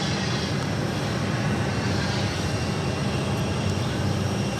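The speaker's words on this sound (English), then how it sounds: "Just at Porter, the E2 arriving on runway 8, coming in from Toronto." A Porter Airlines Embraer E2 jet arriving on runway 8 at Phoenix Sky Harbor gives off a continuous, even engine roar that stays steady and fairly loud throughout, with no voices.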